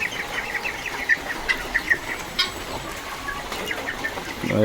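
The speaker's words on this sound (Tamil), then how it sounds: "உள்ளே ஏதோ ஒரு கிண்ணி கோழி கிடாக்குன்னு நினைக்கிறேன் அது சவுண்டு போட்டு கிடாது" Repeated sharp, high-pitched guinea fowl calls ring out over a steady patter of rain, coming in quick irregular bursts from close by.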